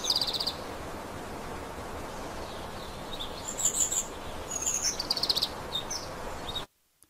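Birds chirp and trill in short bursts over a steady outdoor hiss in an AI-generated scene made with Veo 3.1, the calls brightest near the middle before everything cuts to silence at the end.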